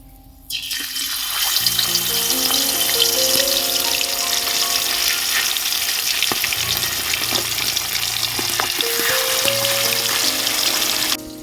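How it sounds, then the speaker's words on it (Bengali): Fish frying in white oil for a Bengali poppy-seed bata fish dish, a loud, steady sizzle with crackling. It starts abruptly after a brief quiet and continues evenly, with occasional spatters and no talk. "এবার তেল দিয়ে দেবো মাছ ভাজার জন্য"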